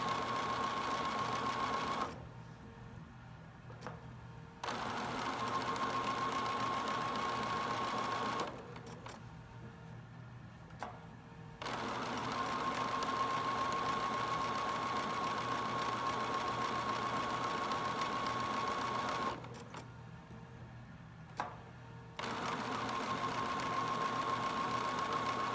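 A sewing machine stitches applique using auto pivot, running in long steady whirring bursts broken by brief pauses as the fabric turns, close and continuous with a faint high whine.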